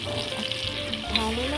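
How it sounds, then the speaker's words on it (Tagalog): Flour is stirred into melted butter in a pan, giving a close, steady sizzle with soft scraping and a brief rattle as it is mixed. "Ilagay natin yung 2 tablespoon of harina at flour. At haluin po natin siya."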